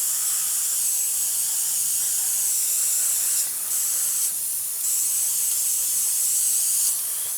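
Continuous hiss of spray paint coating a Hobbyboss 1/48 F4F-3 Wildcat model kit from close by, broken by two short pauses in the spray. No one speaks.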